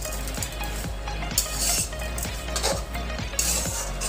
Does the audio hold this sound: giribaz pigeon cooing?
no